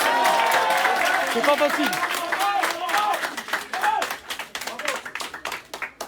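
A boxing-event crowd applauds both fighters, a burst of clapping and crowd noise mixed with talking that thins into scattered, uneven claps toward the end.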